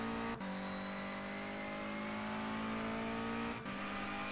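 A touring race car in rFactor 2 holds a steady, high-pitched engine drone with bright harmonic lines, dipping briefly twice as the gears change, all loud and close with no voices.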